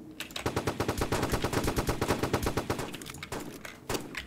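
Rapid gunfire from a shotgun-like weapon in the video game Roblox, a long burst of evenly spaced loud shots followed by a few scattered single shots.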